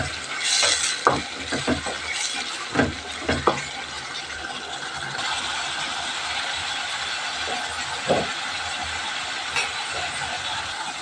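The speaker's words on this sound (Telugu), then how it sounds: "బాగా పచ్చివాసన ఫ్రై అయ్యిందాక కొంచెం ఫ్రై చేసుకుందాం." Spices and salt frying in a pan for coriander rice, a soft continuous sizzle broken by sharp scraping and clinking of a spatula against the pan in irregular bursts.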